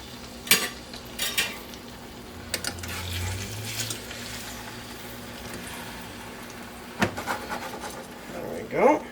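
Fish steaks going into hot mustard oil in a pan, giving a soft steady sizzle with a few clicks and clatters of utensils, low and fairly quiet throughout.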